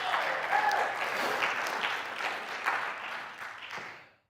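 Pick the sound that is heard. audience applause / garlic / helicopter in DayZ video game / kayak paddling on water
audience applause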